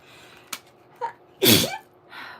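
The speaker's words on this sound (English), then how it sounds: "I'm about to sneeze" A single loud, sharp sneeze bursts out near the middle, preceded by a couple of quick breathy intakes and followed by a softer exhale.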